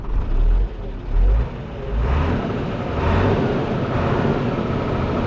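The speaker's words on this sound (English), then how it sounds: "Now you are accelerating slowly" A car engine builds slowly through a gentle acceleration, its steady mid-range hum swelling after a couple of low thumps, close and fairly loud with no talk.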